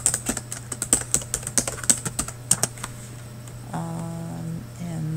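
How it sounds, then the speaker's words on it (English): Rapid typing on a computer keyboard, a close string of crisp key clicks for about three seconds, then it stops and a low steady hum remains. "Type in some of the headings."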